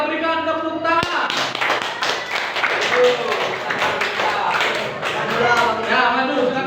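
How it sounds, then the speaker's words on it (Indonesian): A school class applauds as the final student group is called forward, a sustained burst of dense clapping from many hands in a classroom, with voices mixed in underneath. "Kita berikan tepuk tangan."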